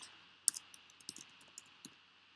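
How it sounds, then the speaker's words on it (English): Light, irregular keystrokes tap on a computer keyboard, close and fairly quiet, with short pauses between clicks and no speech. "So if you just start typing account ID here"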